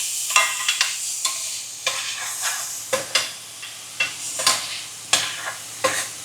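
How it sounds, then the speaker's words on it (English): Vegetables sizzle in a hot pan while being stirred and scraped with a utensil, soft frying hiss broken by a series of sharp scraping strokes, close and fairly quiet. "Gonna saute this for a minute."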